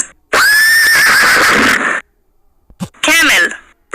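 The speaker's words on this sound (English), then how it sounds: "Horse." A horse neighs loudly and close, a long wavering whinny lasting over a second, then after a pause a short snort and a second shorter whinny.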